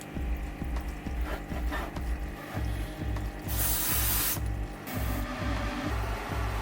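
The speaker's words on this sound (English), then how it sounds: "Use the airbrush to create smooth color blending between trunks and branches" Airbrush spraying paint onto the trunks and branches of three balata trees for a jungle diorama, a steady airy hiss that swells into louder bursts amid a low rhythmic mechanical throb from the compressor.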